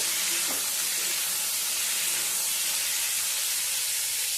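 Boiled potatoes and capsicum fry in a pan with a continuous, loud broadband sizzle and hiss that stays steady throughout, no voices.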